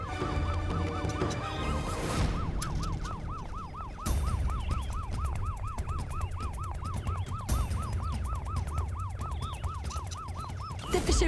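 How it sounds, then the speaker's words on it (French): Ambulance siren wailing in a steady, rapidly repeating up-and-down pattern, loud and close, over background music and traffic noise throughout. "Une ambulance."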